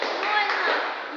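Group of people clapping continuously at a boxing sparring session, a dense, fairly close patter of hand claps with voices mixed in.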